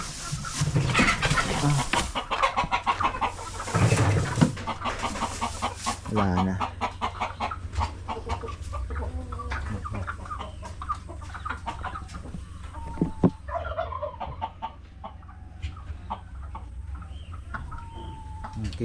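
Chickens cluck and squawk close by, loudest at first, then settle into scattered clucks over a quieter farmyard background with some voices.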